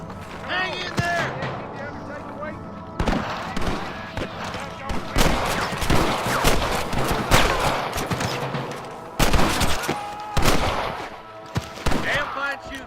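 Gunfire rattles through a Red Dead Redemption gunfight as a loud, sustained fusillade of overlapping rifle and pistol shots with sharp cracks, while voices shout over the shooting.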